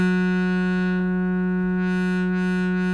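An Arturia MiniBrute 2 holds a single sawtooth note through a resonant low pass filter, a steady, loud, buzzing drone with a subtle shifting sweep in its upper tone.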